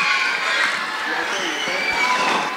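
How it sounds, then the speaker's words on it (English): An audience at a school talent show cheers and claps in a dense, continuous wash of sound, with shouts and whoops layered over the applause. "Give yourself a round of applause."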